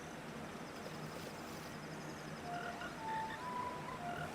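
Frogs croaking in the video game Zelda: Ocarina of Time, faint short tonal chirps and croaks arriving in the latter half over a soft, steady ambient music bed.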